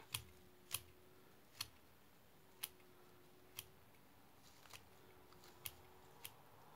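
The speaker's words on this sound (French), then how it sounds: "parce qu'ils sont très longs les fils de sisal, donc voilà, je les coupe" Scissors snip through long sisal threads in a run of about nine sharp, evenly spaced clicks, close and quiet over a soft background hum, with no talking.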